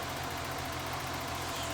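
A BMW E30 engine idles smoothly after its fuel pump has re-primed, a low steady hum with a faint regular pulse. It sounds close but quiet and runs on its own with no voices.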